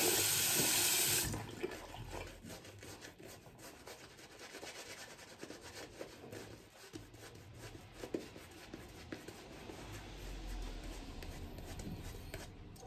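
Water runs from a sink tap while hands are rinsed under it during a shaving session, a steady close hiss broken by rubbing and splashing, with no talking.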